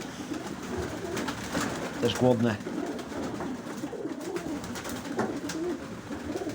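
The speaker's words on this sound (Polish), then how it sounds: "Może gołębie zeszły na dół." Racing pigeons coo softly in a low, throaty burst over a background of chatter and rustling, with a person speaking briefly in Polish.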